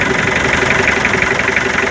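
A Mitsubishi L300 engine with a blow-by fault idles close up, a loud, steady mechanical chug with a rough, pulsing rhythm that holds constant and unbroken.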